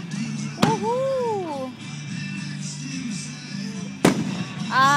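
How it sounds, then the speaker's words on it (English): Two sharp booming bursts from a fireworks display in Henderson, Kentucky, in July 2011 come a few seconds apart, echoing outdoors, with excited voices and crowd murmur between them. "Fireworks here in Henderson."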